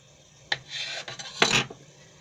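A knife slices through the middle of a rolled sponge cake, making two soft scraping rasps close by with a brief pause between them.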